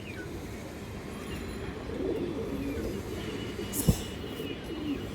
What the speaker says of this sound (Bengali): খুব সুন্দর একটা মাদি কৌতর সিলভার মাদি কৌতর